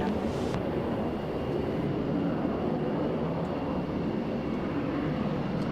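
A C-130 military aircraft on the runway, its engines giving a steady, loud, continuous roar with no voices over it.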